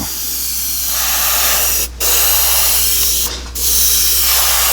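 AK Interactive chrome paint sprays onto a scale model bumper from an airbrush in a loud, continuous close hiss, broken by two brief pauses in the flow, over a steady low compressor hum.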